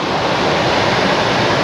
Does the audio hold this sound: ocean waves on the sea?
yes